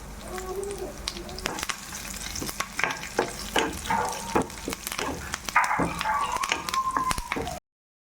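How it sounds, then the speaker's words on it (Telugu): Onions and curry leaves frying in hot oil as a tempering for gongura dal, crackling and popping irregularly close by, with stirring scrapes and a faint background noise that may be a dog. "ఉల్లిపాయలు కూడా వేగాక కరివేపాకు వేసుకొని వేయించుకోవాలి"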